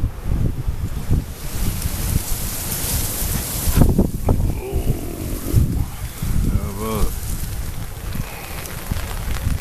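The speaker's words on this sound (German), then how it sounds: "Ich glaube, ein Unwetter zieht auf." Strong gusting wind picks up outdoors at a hammock camp ahead of an approaching storm, a loud continuous roar that rises and falls in waves, with a few brief human sounds over it.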